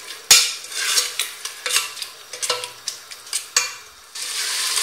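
Raisins stirred in sauce in a pan over medium heat for a lamb tagine, a utensil scraping and tapping the pan in a series of sharp knocks over a soft sizzle that swells near the end.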